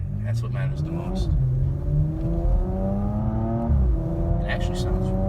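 A Porsche Macan GTS engine pulls under load while driving, with a steady low drone whose pitch rises and falls with a couple of gear changes, heard from inside the cabin.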